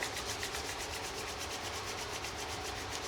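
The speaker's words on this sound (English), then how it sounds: "Let's rub our hands together." Two hands rub briskly together in a steady, continuous dry swishing friction, close and fairly loud, with no voices over it.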